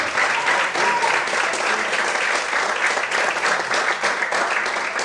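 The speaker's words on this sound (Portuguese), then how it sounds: "Você pode aplaudir ao Senhor." Worshippers in a church clap for the Lord, a full, unbroken burst of congregational applause that stays loud and uniform from start to finish.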